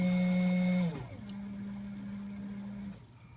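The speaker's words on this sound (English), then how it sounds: "I'm going to press dispense, and it'll just start humming and going, and it'll drop it." An RCBS Chargemaster powder dispenser whirs with a steady tonal hum that drops in pitch and settles into a lower drone before fading.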